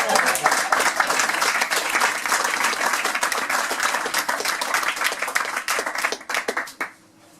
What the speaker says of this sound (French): Je peux applaudir Michael.